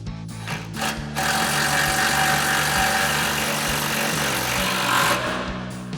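A bolt is driven tight with a 17mm socket and extension during a rear lift block install on an F-150, heard as a dense, buzzing power-tool rattle that starts after a few short bursts and runs steadily for several seconds.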